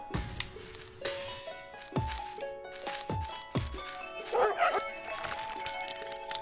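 A cartoonish dog in the video game Bokura gives several short yips and barks spaced about a second apart, set against light game music and sound effects.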